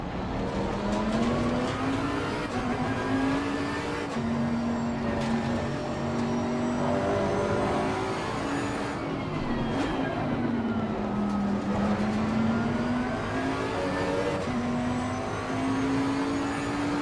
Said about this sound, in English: I'll leave you for a few seconds with this roar of this V8 engine